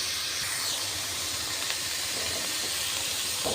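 Onion and garlic paste sizzles in hot oil in a wok, a steady close hiss with no other sounds over it.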